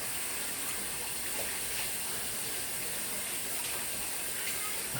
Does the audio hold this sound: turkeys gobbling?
no